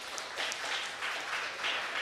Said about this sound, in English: Give a round of big applause,